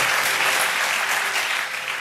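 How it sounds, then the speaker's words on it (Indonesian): A church congregation at an evening prayer service claps together, loud sustained dense applause filling the room without a break. "Tepuk tangan bagi Tuhan."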